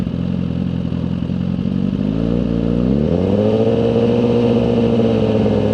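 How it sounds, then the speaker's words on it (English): A Suzuki GSX-R1000R motorcycle engine idles with a rough, loud mechanical clatter, then rises in pitch as the throttle is turned slightly and holds a higher rev. "So let me just give a slight turn on the throttle."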